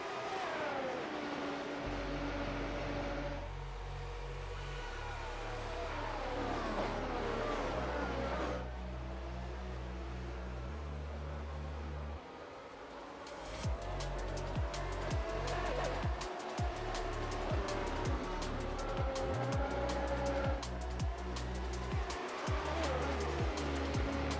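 Race cars roaring down the straight in a sim racing event at a Mexico circuit, several engines buzzing together with rising and falling pitch as gears change, loud and continuous with tire noise.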